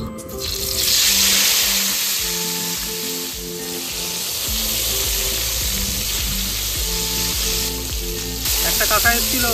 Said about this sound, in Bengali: তাহলে চলুন বেগুনগুলো ভালো করে ভেজে নিই।